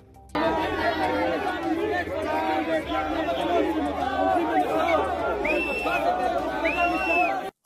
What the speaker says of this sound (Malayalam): ആൾക്കൂട്ടം തെരുവിലാർക്കുന്നു